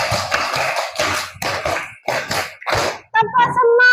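Children in a classroom clap together in bursts of rhythmic group claps, several distinct rounds in quick succession, ending with voices chanting along.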